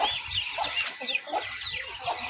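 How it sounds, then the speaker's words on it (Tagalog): Duck quacking nearby in a series of short, nasal, irregular calls over about two seconds, with no talk. "Yan ang pato."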